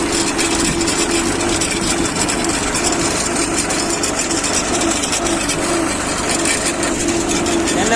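Loud, continuous low rumble of a tractor engine idling close by at a field being laser-levelled, steady throughout with faint voices underneath.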